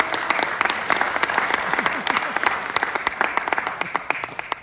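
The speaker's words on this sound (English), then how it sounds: "So everyone should give a big round of applause and Mark." Audience applause at a Magic Leap 2 developer event at the University of Miami, a steady wash of many hands clapping that carries on for several seconds at moderate, even loudness.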